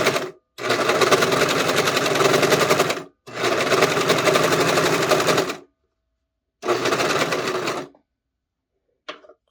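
Four-cone serger stitching a seam, running loud and steady in three long bursts with brief pauses between, ending with a couple of faint clicks.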